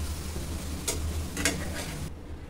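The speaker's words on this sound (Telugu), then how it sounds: "ఇలా మధ్య మధ్యలో కలుపుతూ ఈ విధంగా మగ్గించుకొని స్టవ్ ఆఫ్ చేసి చల్లారించుకోవాలి" A spoon stirs an ivy gourd and tomato mixture cooking in a pan on the stove, giving two or three short scraping strokes over a soft, steady sizzle, with no talking.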